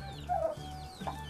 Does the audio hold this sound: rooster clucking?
yes